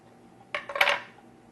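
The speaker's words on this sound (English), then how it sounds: "I'm going to put a little bit of flour on the bottom of my cutter, and I'm going to start cutting" A single short clatter as a floured cookie cutter presses through cookie dough, a close, bright metallic click-and-scrape lasting under half a second in an otherwise quiet room.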